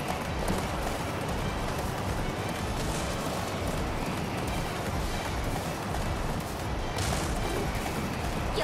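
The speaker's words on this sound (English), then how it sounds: "Where the hell is my horse?" A horse gallops in the video game Attack on Titan 2, with a steady, dense drumming of hoofbeats mixed into loud continuous game noise throughout.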